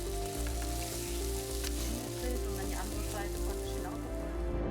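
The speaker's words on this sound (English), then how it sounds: "The patty sizzles as it cooks, turning golden brown on one side" Continuous crackling sizzle of a patty frying in an oiled pan, close and steady throughout with a low hum beneath.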